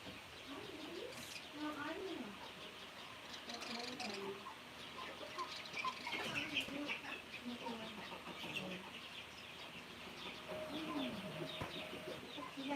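Chickens on a rural South Dakota farm give off scattered clucks and coos close by, woven through steady background chirping, with a person talking over them throughout.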